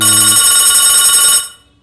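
A telephone rings with a loud, steady electronic bell tone for over a second, then cuts off abruptly into near silence.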